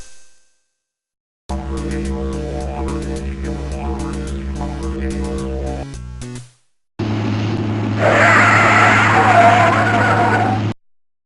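Car tyres and brakes screech in the 1995 PC game Down Under Dan, a long loud tonal squeal with engine-like harmonics, followed by a broader harsh skidding roar before cutting off.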